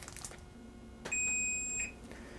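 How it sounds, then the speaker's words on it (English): A kitchen timer for an Instant Pot cooking seafood and rice sounds one high, steady beep lasting under a second in an otherwise quiet kitchen. "My timer just went off."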